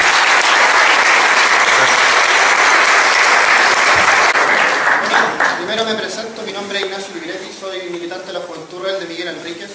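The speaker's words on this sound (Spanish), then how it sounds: "Un aplauso por su presencia." Audience applause at a university lecture hall event, dense and loud for about five seconds, then thinning into scattered claps as a voice begins speaking over it.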